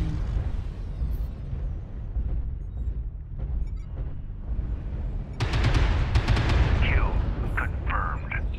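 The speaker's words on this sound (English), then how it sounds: "Artillery strike online" Artillery strike explosions in MechWarrior Online, a heavy rumbling barrage that swells into a loud, sustained roar of blasts with brief crackling impacts, over constant low battle noise.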